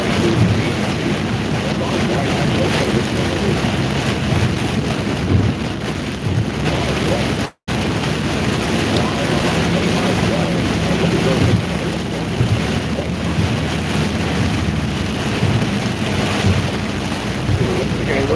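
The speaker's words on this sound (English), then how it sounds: "The storm is really ramping up" Thunderstorm in Oklahoma with heavy wind and rain: a steady, loud roar of wind buffeting the microphone and rushing rain that barely lets up, with a single brief cut midway.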